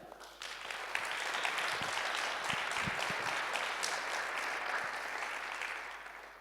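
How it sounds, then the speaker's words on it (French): Audience at a municipal election public meeting in Saint-Genis-Laval breaks into sustained applause, rising quickly and holding steady before tapering off, with a few louder claps and murmurs in the room. "On peut l'applaudir."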